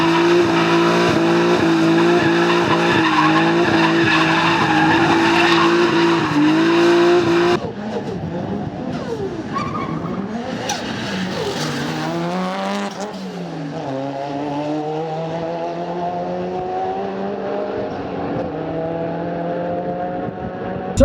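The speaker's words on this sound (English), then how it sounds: "Okay, we're going to show Jamie in a second that this drifts." Budget drift car drifting at Santapod, a loud close engine held at high revs with squealing tyres, then a sudden drop in pitch as it slides and revs rise again, with no voices over it.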